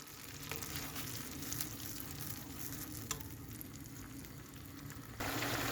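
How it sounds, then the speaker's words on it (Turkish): A steady sizzling, bubbling sound of chickpea pilaf rice boiling in a pot, continuous and fairly quiet, growing slightly louder at the very end. "Pilavım böyle kaynıyor sevgili arkadaşlar."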